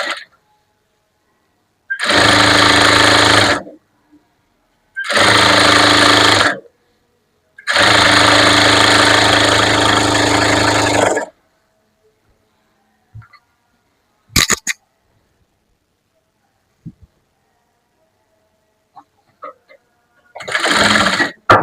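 Sewing machine stitching a folded churidar sleeve hem, running in three loud steady bursts of a few seconds each with short pauses between, then a brief restart near the end after faint handling noises.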